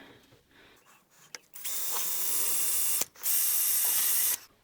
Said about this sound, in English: So now, we need to pop a hole through there. 1/8 bit, because we're going to be using 1/8 rivets.